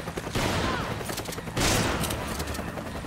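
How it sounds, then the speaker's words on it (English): Rapid bursts of gunfire crackle in the Resident Evil 5 video game, two loud volleys of repeated shots with brief gaps between them, close and harsh. "I can hear gunfire."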